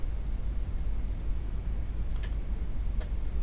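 A few sharp, isolated computer mouse clicks over a constant low hiss, spaced apart with quiet between them.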